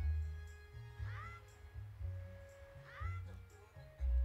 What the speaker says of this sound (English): Hello, little cat, little child.